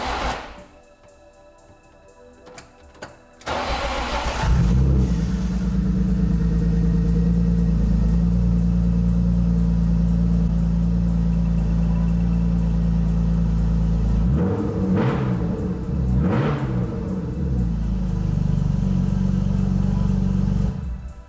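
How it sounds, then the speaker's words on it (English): A BMW E36 with a leaking radiator cranks briefly, then catches and settles into a loud, steady idle close by, with a couple of quick revs partway through before returning to idle. "Let's see if this car will start."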